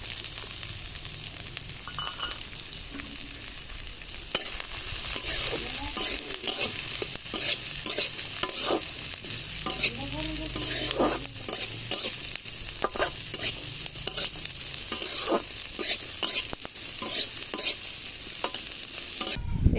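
Chopped onions fry in a pan with a continuous close sizzle, and from a few seconds in a spoon stirs them in repeated scraping strokes that sit over the hiss until the end, with no one talking.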